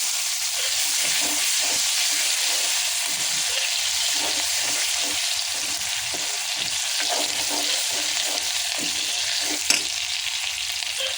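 Masala, turmeric and chopped tomato frying with garlic in a pan for a Malvani black peas dish, a loud, steady, hissing sizzle with faint stirring scrapes throughout and one sharp knock near the end.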